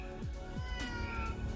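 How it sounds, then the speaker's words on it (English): A cat meows several times in a garden among flowering fruit bushes in spring, short, close meows with faint background noise and no talk. "Oh, hi, kitty."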